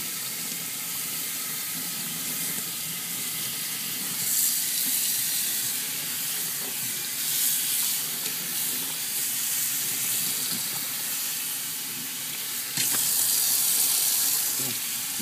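Water rinses an AstroTurf scrubbing pad used as a floor buffer pad, a steady hissing spray running the whole time, loud and close, swelling in brief surges.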